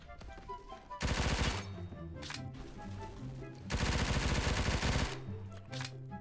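Video-game MP10 submachine gun fires in two long, loud automatic bursts with a dense, rapid rhythm, each followed by short single pops and quieter lulls.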